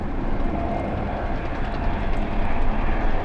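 A JetBlue airliner on short final approach into LAX gives a steady, loud broadband roar of engine and air noise that swells slightly toward the end, with no talk over it.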